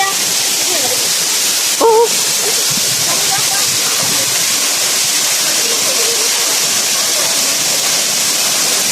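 Ambaktubig falls pours as a steady, loud broadband rush of falling water throughout, with faint distant voices and a brief higher call rising over it.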